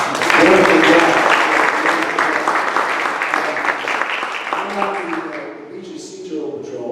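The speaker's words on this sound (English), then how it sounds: "So I think they need another round of applause for this" Applause from a volunteer beach patrol meeting audience for a class, dense and sustained, loudest at the start and gradually thinning, with voices mixed in.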